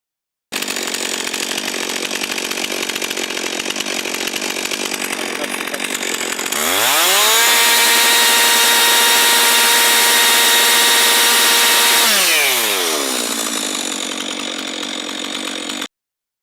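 A Stihl MS 362 chainsaw runs steadily at idle, then revs up to a loud sustained high-pitched whine for several seconds before dropping back to idle, with no talking.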